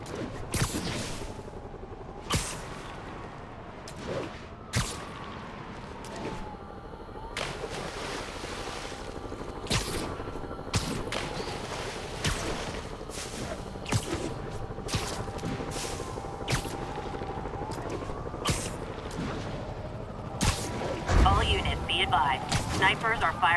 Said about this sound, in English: Snipers are firing on officers.